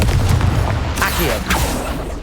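A Confringo blasting spell is cast in the game Hogwarts Legacy: a loud whooshing burst followed by explosive cracks and impacts amid busy combat effects, with a character's voice shouting over the action.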